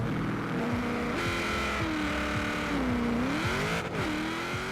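A car launching from a standstill in Forza Horizon 4, the engine revving hard and climbing in pitch through several quick gear shifts, loud and close with a steady, continuous roar.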